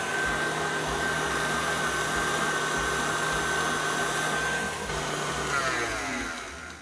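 A stand mixer whips dairy-free vanilla buttercream with a steady, loud motor whir and a thin high whine, running continuously and alone before easing slightly near the end.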